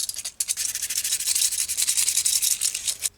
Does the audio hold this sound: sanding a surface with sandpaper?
yes